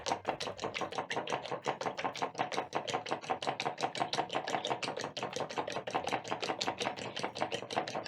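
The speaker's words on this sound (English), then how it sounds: "Whisk in the ingredients to combine." Eggs with light soy sauce, black pepper and salt whisked briskly with a fork in a bowl, a rapid, even series of close tapping clicks running throughout without talk.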